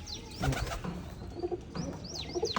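Pigeons kept on a rooftop give soft, close coos in two short bursts separated by a pause, with faint wing and shuffling sounds.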